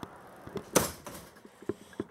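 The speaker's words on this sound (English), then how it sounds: "Go ahead and close this door." The door of a 2016 Sandpiper 371REBH fifth wheel camper being closed, giving one soft thud with a few quieter knocks and rattles around it, heard close in a quiet interior.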